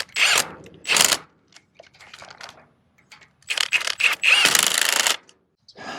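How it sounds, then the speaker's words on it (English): A ratchet tensioner is cranked to tighten a steel cable during hurricane preparations outdoors, giving loud bursts of rapid metallic clicking separated by quieter gaps. "I'm just tightening the tensioner."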